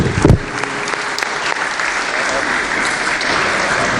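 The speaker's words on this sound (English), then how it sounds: "please give them a round of applause" Inside the West Virginia Legislature chamber, lawmakers applaud two high school students, a loud, dense burst of clapping that begins with a sharp thump and holds steady.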